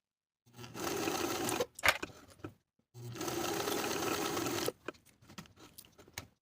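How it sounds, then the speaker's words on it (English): A sewing machine bastes pocket edges onto pant fabric at its longest stitch length, running in two loud, steady bursts of about one and two seconds, separated by a pause, with light clicks and handling noises afterwards. "I'll baste those edges of the pocket to the pant using my longest stitch length"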